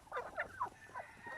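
Free-range chickens at feeding time cluck and chatter in quick, uneven bursts close by, several short calls overlapping against quiet farmyard background.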